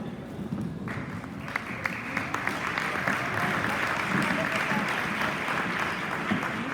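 Luncheon audience at an all-star soccer event applauding the Stingrays team, steady moderate clapping that swells slightly and continues evenly, heard from a distance in a large room.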